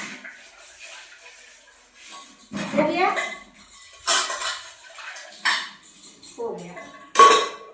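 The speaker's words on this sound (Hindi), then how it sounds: "इस तरीके से हमने अपने सारे बर्तन धुल लिए है ना जी।" Dishes and metal utensils being washed by hand at home, with irregular clinks, scrapes and splashy clatter close by, and a person speaking briefly between the sounds.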